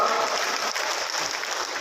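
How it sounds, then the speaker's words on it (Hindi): Applause from a crowd at a political rally welcoming the Home Minister, a brief, steady burst of many hands clapping, moderately loud throughout. "तालियों के साथ स्वागत करिए माननीय गृह मंत्री जी का।"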